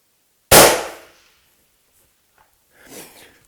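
A 7mm Backcountry rifle fired at a 1000-yard target outdoors: a single sharp, loud report that decays over about half a second, followed after a long pause by a faint, distant thud.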